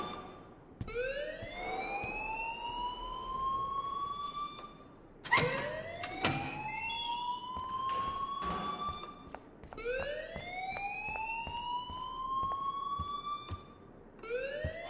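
Blaring alarm in the Life is Strange game, rising siren-like sweeps repeating in long cycles with a brief harsh burst partway through, loud and steady with no talking.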